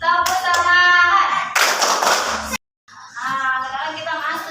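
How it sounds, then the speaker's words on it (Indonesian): A group of people in a classroom gives a short burst of hand clapping lasting about a second, with voices and sung tones before and after it. "Berdiri dulu semua, kita tepuk tangan."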